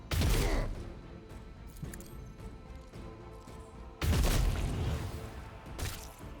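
Gunfire in the tactical video game Warhammer 40,000: Rogue Trader: two loud booming shots, one at the very start and another partway through, each followed by a decaying rumble over quiet background game sound.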